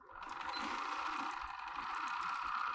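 A sewing machine runs steadily as it stitches fabric for a homemade scrunchie, giving a continuous, even whirring hum from start to finish with no talking.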